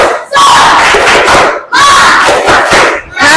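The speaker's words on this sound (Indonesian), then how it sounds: "Coba kita tepuk semangat bersama-sama." A class of Indonesian schoolchildren performs a rhythmic clapping cheer together in the classroom. The group delivers loud, close shouted bursts with claps in a repeating pattern, with brief gaps between phrases.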